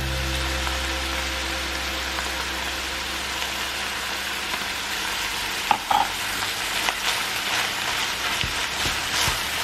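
Beef fajita strips seasoned with cumin and chili powder being stirred in a hot pan, a steady close sizzle with scraping spatula strokes and a few sharper clanks midway, no talking.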